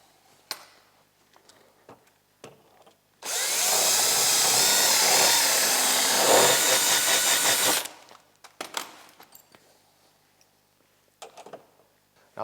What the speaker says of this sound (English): I'll drill and put in the bottom one